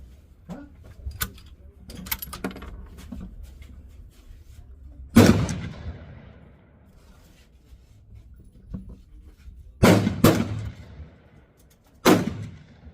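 Pistol gunshots at a long-range target shooting session, several sharp loud cracks spaced seconds apart with brief echoing decay, some close together in a quick pair, over quiet outdoor background.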